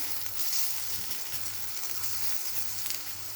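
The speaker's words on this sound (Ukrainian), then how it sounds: "Перевертаю баклажани за допомогою ось такої лопатки." Eggplant pieces sizzle steadily in hot oil in a frying pan, a continuous close crackling hiss with a low intermittent hum beneath it and no voices.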